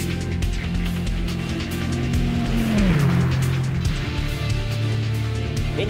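An Audi R18 race car in the rFactor game laps Le Mans, its engine note dropping as it shifts down into third for a corner, then holding a loud, steady drone.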